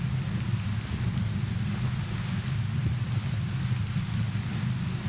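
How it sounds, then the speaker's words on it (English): Steady rain pours in the game Prologue: Go Wayback!, with a low, continuous rumble of rolling thunder running beneath it throughout, dense and unbroken with no distinct claps. "that was like the longest thunder roll I think I've ever heard"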